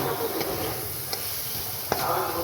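Eggplant frying in mustard oil sizzles steadily in a pan, with a few sharp clicks of a utensil stirring.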